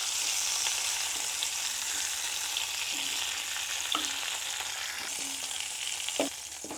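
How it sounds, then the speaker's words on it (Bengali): Rohu fish pieces frying in oil in a pan give a steady, close crackling sizzle with occasional spits and pops throughout, no voices over it. "যাক, হয়ে গেছে আমার মাছ ভাজা।"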